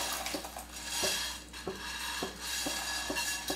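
Prepared sevai stirred in a pan on low flame, a spoon scraping and knocking against the metal pan in a steady rhythm of soft clinks over a faint background hum.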